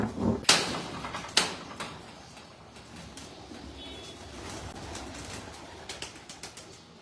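Pigeons on a Lahore rooftop make a few sharp wing claps and faint soft sounds against a quiet, airy background, heard close.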